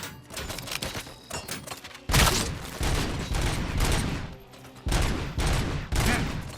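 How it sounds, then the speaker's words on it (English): Gunfire from the video game Robocop: Rogue City comes in loud, dense bursts of rapid shots, separated by short gaps of quieter rattling fire. "Stop dodging my bullets."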